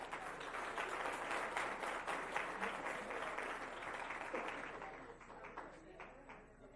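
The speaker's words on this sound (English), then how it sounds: "Let's give them all a round of applause." Attendees at a school board meeting applaud funders and honorees with sustained, even clapping that tapers off near the end, a murmur of voices faintly beneath.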